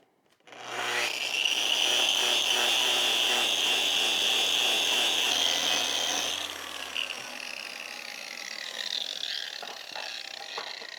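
A cast iron anvil gets wire brushed, a loud, steady abrasive scrubbing that runs for several seconds, then drops to a lighter, uneven rasp.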